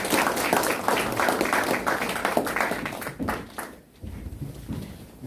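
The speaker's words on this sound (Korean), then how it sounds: "뜨거운 박수 부탁드립니다" An audience at a Korean forum applauds warmly, a thick steady patter of many hands that fades and dips briefly near the end before a few scattered claps resume.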